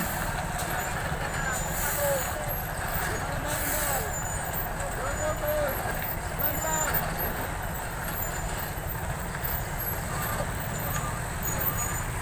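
A trailer truck rumbles past at close range on a slippery wet road, its low engine drone steady throughout with a brief hiss of air brakes, while a voice talks over it.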